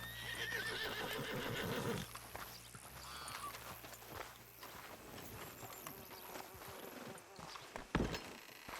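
A horse being hitched in Red Dead Redemption 2 gives a fairly faint whinny early on, then soft hoof clops and shuffling follow, with one sharper knock near the end.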